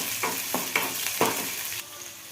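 Onions and green chillies dropped into hot oil with crackling cumin and mustard seeds, sizzling and frying while being stirred with a few scraping strokes, close and alone.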